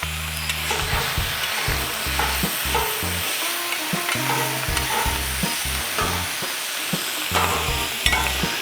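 Turkey sizzles on a Blackstone flat-top griddle while a spatula repeatedly chops and scrapes it, giving a steady crackling hiss broken by quick rhythmic metallic taps, with no talking.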